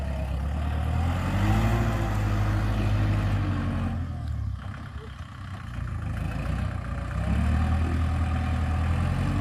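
A Kubota 5018 tractor engine drones low and steady throughout, idling and rumbling close by with a slight dip midway before building again.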